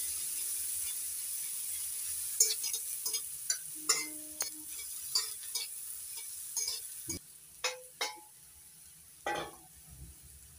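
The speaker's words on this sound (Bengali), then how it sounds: "পেঁয়াজ কুচিটা একটু ভেজে নিচ্ছি।" Chopped onion frying in a pan with a little salt, a faint steady sizzle punctuated by scattered scraping and clicking as it is stirred.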